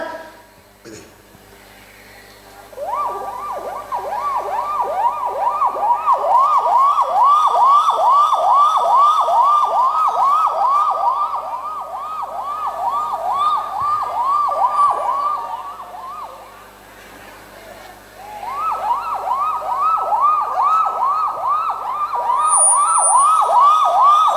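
A person imitates a police vehicle siren with their voice, a loud wail rising and falling in steady cycles, pausing briefly before resuming, with a faint low hum beneath.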